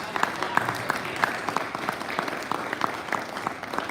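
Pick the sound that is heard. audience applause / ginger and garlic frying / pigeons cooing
audience applause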